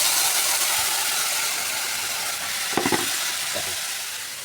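Prepared masala added to a hot frying pan, a steady sizzle with a brief stirring scrape, close and moderately loud, no talk.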